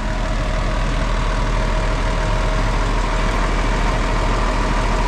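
A 4850 tractor engine runs steadily right after starting, a constant loud, close drone with a faint whine and no breaks.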